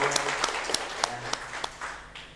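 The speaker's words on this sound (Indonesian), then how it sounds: "tepuk tangan dong." An audience claps at an Indonesian talk show on small business financing, a steady patter of applause with a few sharper claps standing out, fading slightly toward the end.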